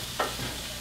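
Broccoli is stirred into a sizzling stir-fry pan for a peanut butter stir fry, giving one brief scraping swish over a steady low frying hiss.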